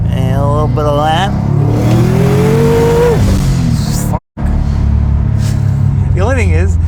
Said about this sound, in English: This exhaust noise right now is totally manageable.